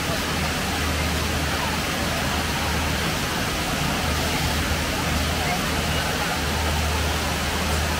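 Steady broadband rush of a waterfall beside the gorilla exhibit at the San Diego Zoo, a continuous roar filling the whole span with faint crowd babble mixed underneath.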